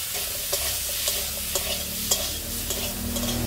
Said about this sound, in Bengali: আমি এবার টমেটোগুলো ভেজে নেবো। অল্প করে লবণ, অল্প করে হলুদ,